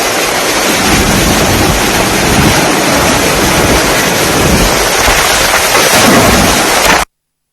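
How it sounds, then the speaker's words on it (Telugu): Heavy monsoon rain pours onto a flooded Mumbai street in a loud, unbroken roar of broadband wash with rumbling low undertones, close and constant until it cuts off abruptly near the end. "ఇదే సిచ్యువేషన్ ముంబైలో భయంకరమైన వర్షాలు"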